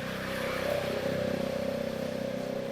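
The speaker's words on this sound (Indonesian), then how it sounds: "Gue kesel banget sama suara knalpot berisik begitu tuh" A motorcycle with a loud racing exhaust drones steadily nearby, its engine note holding a rough, sustained buzz without clear revving.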